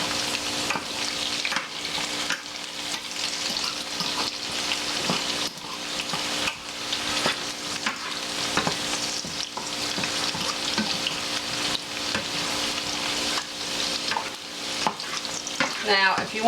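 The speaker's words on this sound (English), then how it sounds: "the onions are starting to get clear. Some of the onions are starting to caramelize, and so are the potatoes." Onions and potatoes sizzling and caramelizing in a pan for a cheese and potato frittata, steady frying hiss broken by repeated scraping stirs across the full stretch, close and moderately loud, no talking.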